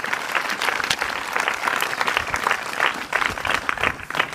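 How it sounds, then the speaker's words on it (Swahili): A crowd of students and guests at a school gathering applauds a benefactor, steady clapping that is dense and close, lasting several seconds without speech. "Makofi kwake."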